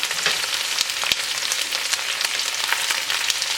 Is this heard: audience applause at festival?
no